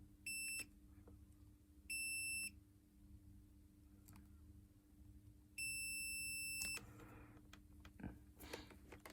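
A multimeter gives continuity beeps while a fuse on a faulty Nintendo DS board is tested, three steady high-pitched tones of varying length, the last the longest, against a quiet background hum with faint handling clicks.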